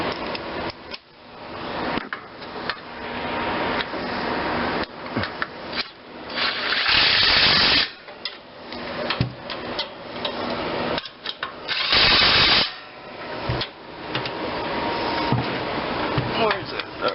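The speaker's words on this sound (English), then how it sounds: "let's torque all these down." Power tool torquing down bolts in a workshop, with bursts of whirring and buzzing in two clear runs and shorter rattles between, under steady shop noise and some talk.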